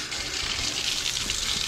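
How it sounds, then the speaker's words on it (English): Water gushes from a tap in a steady, moderately loud rush, running continuously with no voices over it. "Let the water run."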